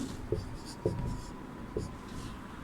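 Pen or chalk writes a Hindi class answer by hand, soft scratchy strokes in a few short bursts over quiet room tone.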